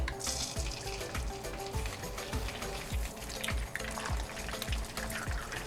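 Eggs frying in hot oil in a pan for Javanese fried egg noodles, a steady close crackling sizzle with repeated low scraping strokes from stirring.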